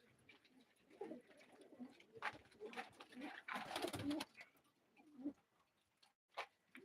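Pigeons coo softly in a breeding coop, with a run of low, rolling calls and brief flutters rising and falling over several seconds, fairly faint and without speech.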